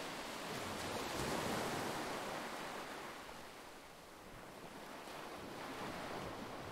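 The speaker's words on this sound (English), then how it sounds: "The ocean waves sound like what you hear in those tapes, the soothing tapes, you know, to help you fall asleep" Ocean waves from the video game To the Moon wash in a continuous soft roar, swelling and receding gently like a soothing sleep tape, with wind-like hiss and no other sounds.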